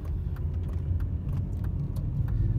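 Steady low engine rumble from inside a 1996 BMW E39 Alpina as it accelerates, a continuous drone with slight rises in intensity, with faint clicks and rattles on top.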